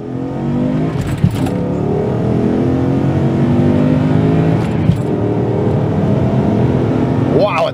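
A V8-swapped Toyota Altezza sedan engine drones loudly and steadily from inside the cabin, rising in pitch as it accelerates, with small clicks and rattles.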